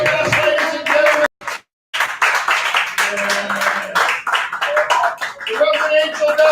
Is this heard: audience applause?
yes